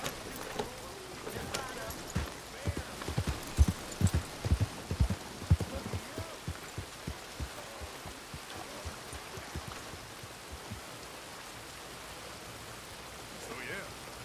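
Horse hooves clip-clopping in Red Dead Redemption 2, a run of sharp hoof strikes at a walking pace that fades to faint ambient rain-like background after a few seconds.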